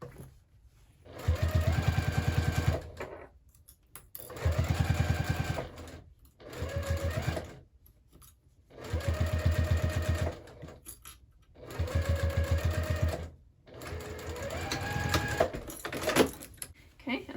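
A sewing machine stitches a handbag panel in five distinct runs, each lasting about two seconds, close and loud, with brief pauses and light handling noise between them.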